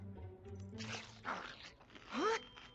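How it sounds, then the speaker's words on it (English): A small cartoon dog yips and barks in a few quick, bright bursts, the last one rising in pitch, close up over a quiet background with no talk. "That's Spike, my, dog."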